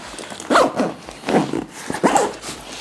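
A backpack zipper is pulled in several short, scratchy bursts, close by and fairly loud, with brief pauses between pulls.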